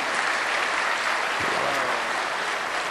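Audience applause at a Hindi poetry recital, a dense, steady wash of clapping from a large crowd that holds at an even level throughout.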